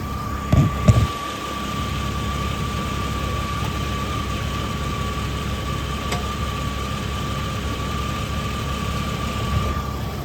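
A 2001 Jeep Cherokee XJ Sport 4x4 with the 4.0 engine idles steadily under an open hood, a constant low rumble and hum after a couple of short knocks at the start, with no talk.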